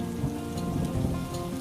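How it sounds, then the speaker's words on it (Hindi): Rain pours outside a village roadside dhaba, a thick steady patter of drops on surfaces with a low rumbling undertone, constant and fairly loud. "बाहर बारिश हो रही है"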